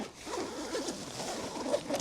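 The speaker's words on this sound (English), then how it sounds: "Get a bite, unzip it." A quick-release zip on a carp fishing bedchair is pulled open, giving a brisk, close ripping rasp that runs steadily for about two seconds with small catches near the end.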